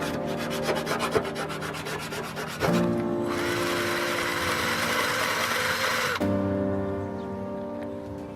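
A sander works on rusty body panel around a hole on an MKII Supra, a close, continuous rasping buzz that stops and restarts, with a rapid rhythmic pulsing in the opening seconds.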